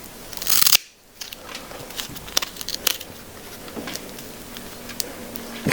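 Scissors make a series of small, close snips and crackling clicks across a quiet background, with one brief rustle and a short silence near the start.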